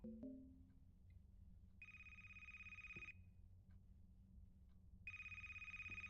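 A phone rings inside the horror game A Place Forbidden, set in a library: two bursts of electronic ringing, each about a second long and separated by a pause, over a low ambient drone. There is no speech.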